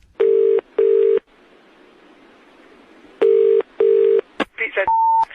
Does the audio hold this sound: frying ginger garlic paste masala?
no